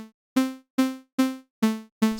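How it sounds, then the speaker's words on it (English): Soft sawtooth wavetable tone from an Arturia Pigments synth, without frequency or phase modulation, playing five even, separate notes at one pitch, each struck and then fading, heard alone and clean. "So it kind of sounds like a soft sawtooth wave."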